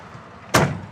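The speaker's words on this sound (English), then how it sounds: "Doors open and close good." A single solid thud of a 1970 Ford Mustang Fastback door shutting, sharp and close, with a brief rumbling tail fading over the next moment.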